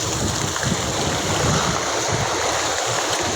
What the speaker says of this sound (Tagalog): Lakas ang agos, Bert. Ang agos, talagas.